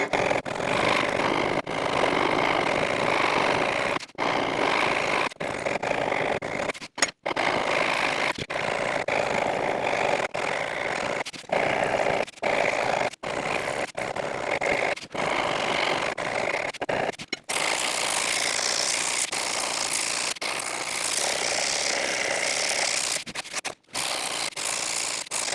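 A coarse file rasps steadily across a Stratocaster guitar body, shaping the contour in long, continuous strokes with brief pauses between passes, close and fairly loud with no talking.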